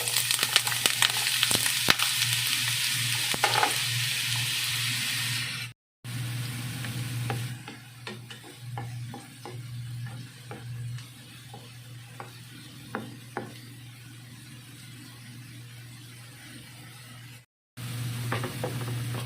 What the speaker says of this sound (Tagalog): nakainit na kong mantika